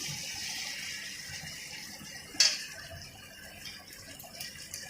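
Water pours from a tap into a pot of simmering curry, a steady broad gush with one brief louder splash partway through, heard alone without talk.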